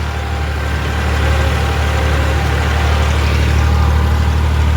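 A tractor engine runs steadily under load with a deep, constant rumble, holding an even drone throughout with no voices.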